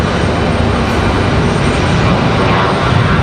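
An American Airlines jet on the runway at Raleigh-Durham International Airport produces a loud, continuous broadband roar of engine noise that fills the whole stretch, close and unbroken.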